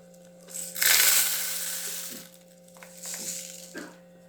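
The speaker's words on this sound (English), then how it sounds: "So we're going to start here with pouring the crushed mirror." Crushed mirror glass poured into a drinking glass, a loud gritty crunching rush that swells near the start, tapers off, then returns in a shorter second pour with a few small clinks, alone and close.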